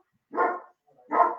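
A pet dog barks at the front door of a house, giving two separate deep barks with a short pause between them. Nearby and fairly loud, with no one talking.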